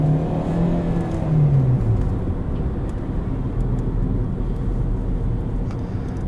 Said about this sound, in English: Which keeps the engine RPMs up in order to increase braking